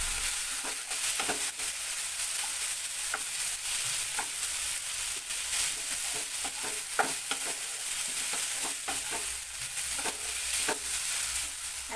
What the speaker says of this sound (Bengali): বেশ সুন্দর ভাজা ভাজা হচ্ছে।